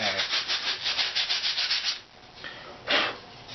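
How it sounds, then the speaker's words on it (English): Foam piece being scrubbed on its back before gluing, a rapid rhythmic rubbing of about a dozen close strokes, then a pause and a couple of slower, louder swipes. "scrubbing the back like this is just to help it when I glue it down"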